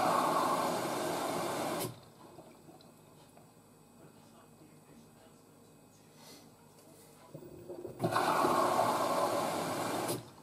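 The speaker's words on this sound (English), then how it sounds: "it's flushed all the pre-wash through." Water rushes loudly through a washer dryer as it flushes out the pre-wash, stopping abruptly for a quieter stretch of low churning before the strong flow surges back near the end, with a voice speaking faintly.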